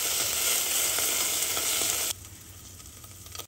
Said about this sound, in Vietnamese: Sau đó cho tỏi bằm vào xào thiệt là thơm. Rồi cho thêm đầu tôm vào nữa.